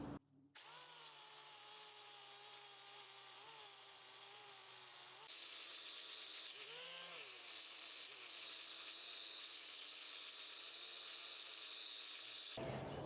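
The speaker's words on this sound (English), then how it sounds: "I am going to use the angle grinder with a flap sanding wheel to take most of the material away" An angle grinder with a flap sanding wheel whines continuously at high pitch while grinding down oak wood, its tone dipping briefly under load, running steadily before stopping abruptly.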